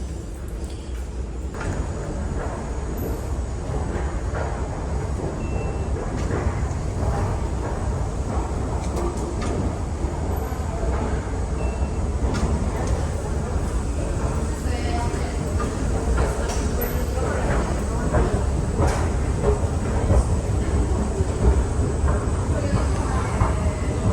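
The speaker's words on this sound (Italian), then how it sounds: "Molto nuova, questa è sempre la metro di Catania." A metro train in Catania, Sicily, rides along with a steady, loud rumble and rail hiss throughout, with occasional clatter and door-like sounds while people talk faintly inside the carriage.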